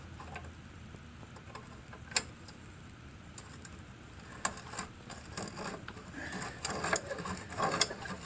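Seized, rust-caked throttle on a Tecumseh carburetor of a 5 HP Sears Craftsman wood chipper shredder, worked back and forth by hand after penetrating oil, giving faint scattered metallic ticks and clicks that grow busier toward the end, with no talking.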